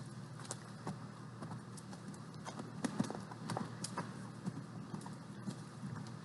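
Horse hooves clip-clop steadily at a ranch during a ride, a regular rhythmic beat of light knocks close by over faint outdoor background, with no talking.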